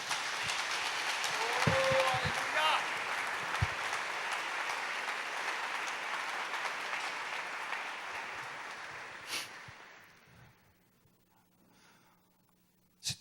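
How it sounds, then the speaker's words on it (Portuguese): Sustained congregational applause in a church service, a broad wash of many hands clapping for several seconds before tapering off toward silence at the end. "Eu queria uma salva de palmas para Ele."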